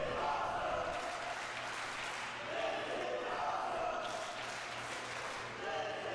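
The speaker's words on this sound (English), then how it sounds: "This crowd chanting, "This is awesome," and they are right" A wrestling crowd in a match between Chris Bey and Shane Strickland chants in unison, the sustained rhythmic crowd roar rising and falling steadily throughout with a low hum beneath.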